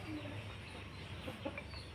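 A fighting rooster of a Chinese breed clucks in short, faint bursts near the middle of a steady background hum, with no crowing.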